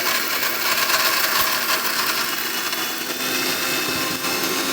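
A kitchen mixer grinder whirs steadily and loudly as it grinds jaggery and fennel seeds with water, a continuous high-speed motor roar with no pauses.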